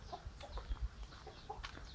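Chickens cluck softly in a coop on a rural farm, with short scattered calls and faint rustling, quiet and somewhat distant.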